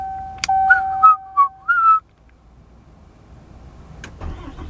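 A 2024 Ram HD Limited diesel truck engine cranks and catches after its winter preheat, following a few electronic cabin tones, then settles into a low, steady idle near the end.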